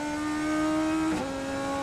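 Radical race car engine heard onboard at Sebring International Raceway, a steady loud high-pitched drone that shifts pitch sharply near the end as the driver changes gear.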